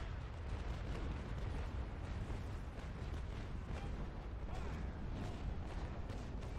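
Ship cannons fire in the Naval Action video game in a dense, continuous rumble of booming blasts that merge into a steady roar, with no single shot standing out.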